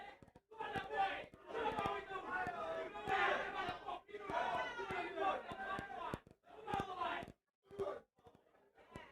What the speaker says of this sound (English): Crowd really up for it.